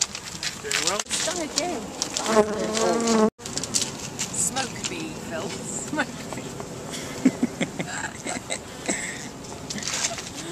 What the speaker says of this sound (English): Good, what a lot of bees.